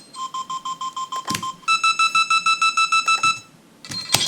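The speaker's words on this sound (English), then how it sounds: "Right, like your beeps." Layered electronic beeps built as film sound design: a steady run of rapid evenly spaced tones, then a second higher series of sharper pulses, punctuated by a few clicks and a final burst, loud and alone.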